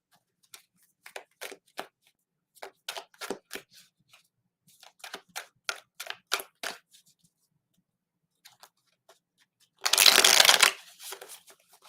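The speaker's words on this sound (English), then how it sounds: "So I have to pull more cards." Tarot cards are shuffled in short crisp riffling bursts, close and clear, with quiet pauses between them and a louder, longer riffle near the end.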